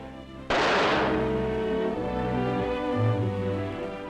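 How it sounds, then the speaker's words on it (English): A single loud gunshot, a test bullet fired into cotton for ballistics matching, cracks sharply and then rolls into a long, reverberant decay lasting several seconds, with no other sound around it. "You can shoot a bullet into cotton and it will retain the gun barrel markings."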